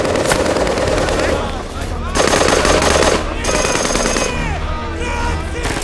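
Rapid bursts of machine gun fire in a wartime battle scene, loud and sustained with short pauses between volleys and a narrating voice over parts of it.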